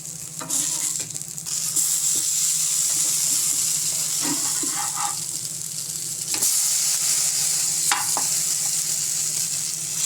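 Eggplant slices, just turned over, fry in oil in a pan, a constant close hiss running throughout with a few light knocks and scrapes of the turner against the pan.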